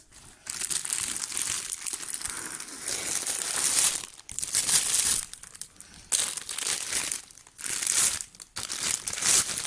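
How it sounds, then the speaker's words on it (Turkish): Packaging around a new pair of shoes is torn open, loud close crinkling and crumpling of paper and plastic in several long bursts separated by short pauses. "Arkadaşlar açıyorum paketini."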